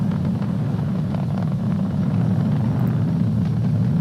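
A SpaceX Falcon 9 rocket carrying the Crew Dragon Demo-2 mission roars during launch, heard from a distance as a steady, deep, continuous rumble without pauses.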